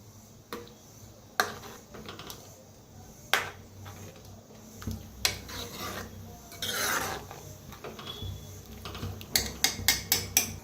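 A spoon stirs egg curry masala with salt in a pan, making rasping scrapes and rubbing strokes against the metal. A quick run of sharp scrapes comes near the end. Close and fairly quiet.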